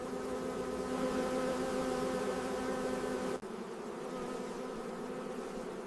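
A dense, steady buzz of honey bees inside the hive, a close continuous drone with layered harmonic hum that dips briefly near the end before carrying on.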